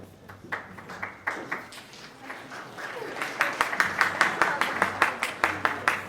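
Scattered claps build into rhythmic clapping, with sharp regular strikes growing louder and more unified toward the end.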